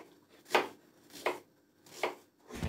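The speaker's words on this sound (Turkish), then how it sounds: "Emin Bey şimdi soğan doğrama şovu yapacak" An onion being chopped with a knife on a board in a home kitchen while preparing stuffed vine leaves, heard as three sharp, separate cuts spaced about a second apart, close and clear with no talk.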